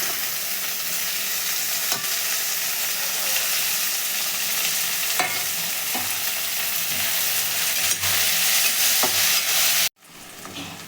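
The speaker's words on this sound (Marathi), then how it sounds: "आता मी टोमॅटो टाकणार आहे" Tomatoes go into okra frying in a pan, giving a steady, loud sizzle with occasional stirring clicks for about ten seconds before it drops off abruptly near the end.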